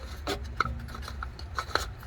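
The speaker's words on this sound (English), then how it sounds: "that's the filter, that's the brand new one, so we're gonna slide it in there" A new oil filter for a BMW X5 oil change slides into its housing, making close, rasping, scraping rubs with a few sharper clicks and brief knocks over about two seconds.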